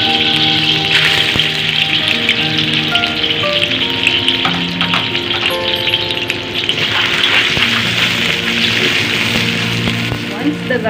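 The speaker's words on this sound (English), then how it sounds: "In the same oil, we can now saute our garlic." Garlic sautéing in oil left over from half-cooked potatoes while making lamb caldereta, a steady close sizzle and crackle with occasional stirring clatter running throughout.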